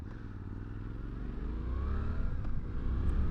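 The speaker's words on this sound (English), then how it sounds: "I like the kind of off-idle rev character of the engine" A 2023 Suzuki V-Strom 800 DE parallel-twin engine revs up from low speed, its steady rumbling drone rising gradually in pitch and loudness, heard close with no talking.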